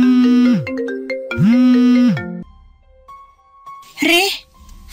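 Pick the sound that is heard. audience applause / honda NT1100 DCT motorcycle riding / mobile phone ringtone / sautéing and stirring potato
mobile phone ringtone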